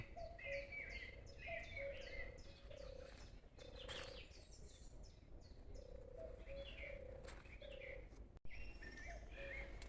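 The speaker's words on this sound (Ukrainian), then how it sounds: "Як співають пташки красиво." Several birds chirp and sing continuously in a quiet forest, with repeated short calls overlapping at moderate distance.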